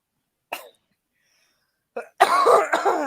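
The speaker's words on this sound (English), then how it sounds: "I had my own coughing fit" Two short, sharp coughs separated by a pause, followed by a harsher, louder burst of rough coughing and throat clearing close by.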